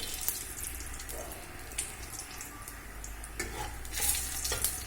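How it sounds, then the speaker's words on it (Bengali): Soft sizzling of nigella seeds and dried red chillies frying in hot oil over low heat, with occasional stirring scrapes and clinks. "কালো জিরেটা দিয়ে দেবো দিয়ে দেবো দুটো একটা শুকনো লঙ্কা একটু ভেজে নেব"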